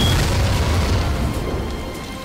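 A deep mortar blast booms in Medal of Honor Pacific Assault, a loud low rumble that swells at once and slowly fades over about two seconds.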